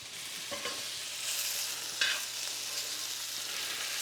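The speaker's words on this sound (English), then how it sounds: "Now we're gonna roll this filet around and let it cook on the sides." A filet steak sears in a pan with butter, giving a soft continuous sizzle and hiss with a few faint clicks and one brief metallic tap, steady and fairly quiet, no talking.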